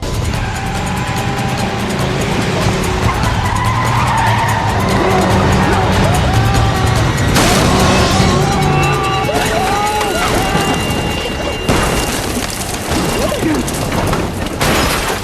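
A car accelerates hard with roaring engine and squealing tires, skids, then crashes and flips over with loud booming impacts, dense and close throughout with music-like tones layered in.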